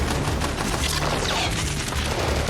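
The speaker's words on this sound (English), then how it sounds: "Machine gunners on the Humvees fired back immediately. The firefight exploded." Machine guns on Humvees fire back during a convoy ambush in a war film, a dense, loud, continuous clatter of rapid gunfire mixed with booms filling the whole stretch.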